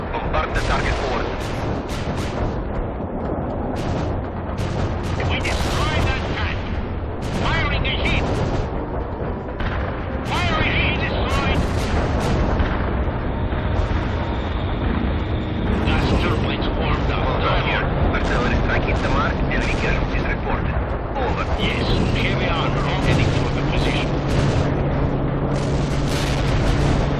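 Tank cannon fire and explosions in World in Conflict: Soviet Assault, booming blasts and rumbling detonations layered over dense continuous battle noise and engine drone, loud throughout.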